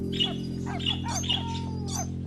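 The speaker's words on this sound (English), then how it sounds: "until the parrot, with a twist of irony, starts squawking." A cartoon parrot from an Arthur episode squawks in a series of short, bright, repeated calls over a steady low hum, fairly close and loud throughout.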